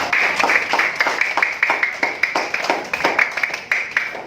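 Students in a classroom clap together in a rhythmic, evenly spaced pattern of sharp claps, moderately loud and steady throughout.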